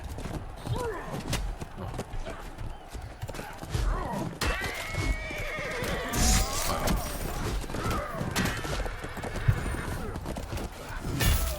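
Horses whinny and hooves clatter in the medieval combat game Chivalry 2, with several neighs rising over a busy battle din and overlapping voices throughout.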